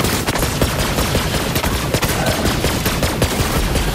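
Rapid, dense gunfire from a gun in the video game Borderlands 3, a steady stream of loud overlapping shots with no pauses across the whole stretch.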